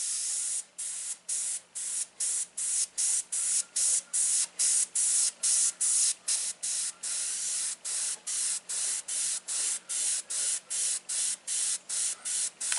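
An airbrush sprays paint onto a rose in steady short hissing bursts, about two per second, close and even throughout with brief pauses between them.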